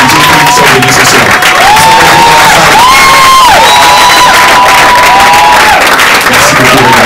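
A church congregation rising to applaud and cheer, a loud dense roar of clapping with whoops and high shouts, including children's voices, sustained throughout at close range.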